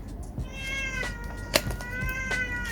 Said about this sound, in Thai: แมวกรี๊ดเลย